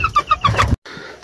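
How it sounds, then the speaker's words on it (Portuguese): Chickens on a farm cluck in short repeated bursts, a hen with her chicks, close and fairly loud before a brief gap and quieter clucking. "Olha aí, pintaiada."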